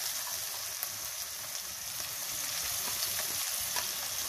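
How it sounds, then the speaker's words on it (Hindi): Spices and chopped coriander leaves frying in melted ghee over high heat, a dense, even, crackling hiss that holds steady throughout, close and moderately loud with no talk. "आंच को मैं तेज़ करती हूँ ताकि ये घी भी पिघल जाए और मसाले इसमें थोड़े से कड़कड़ा जाएं"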